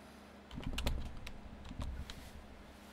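Typing on a computer keyboard while entering chords into music arrangement software, a few bursts of quick close key clicks with pauses between, no voices.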